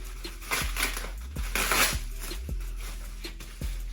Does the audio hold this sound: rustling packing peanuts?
yes